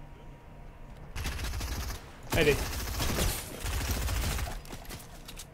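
Bursts of rapid gunfire in a helicopter-squad battle royale game, several sustained automatic volleys with short gaps, loud and close, with players talking over the shooting.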